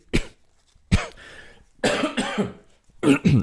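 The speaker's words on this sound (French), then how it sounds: "Excusez-moi pour la toux." Several sharp coughs in quick bursts, close and loud, separated by short pauses with breathy throat noises.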